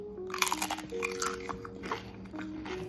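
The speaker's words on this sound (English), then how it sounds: "Listen to the crunch." Teeth bite into a crunchy homemade Asian beef chip, a protein snack in the style of Cambodian jerky, giving a few sharp close crunches followed by quieter chewing, with faint background tones.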